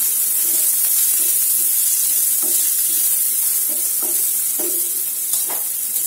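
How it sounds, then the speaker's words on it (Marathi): Paneer is lightly sautéed in a hot pan, with a loud continuous sizzle and hiss and rhythmic spatula scrapes and stirs every second or so, close up. "आता याच्यामध्ये आपण आपले पनीर एकदम थोडेसे सोते करून घेऊया."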